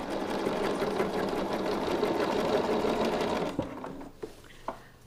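A sewing machine stitches a folk heart chain, a fast, steady mechanical whir running for several seconds, then stopping and giving way to a few sharp clicks and small handling knocks.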